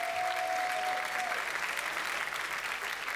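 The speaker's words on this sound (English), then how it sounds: "I wish to maybe a round of applause for all of you." Audience applause at a youth enterprise competition finals and awards night in Malta, a dense steady wash of clapping from a large crowd lasting throughout, with a brief tone fading early on.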